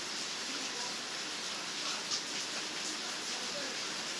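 Steady rain falling outdoors, a continuous even hiss of drops with no clear breaks, moderately loud and alone.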